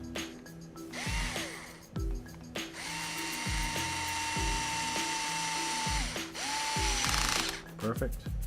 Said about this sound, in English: Bolt this guy up.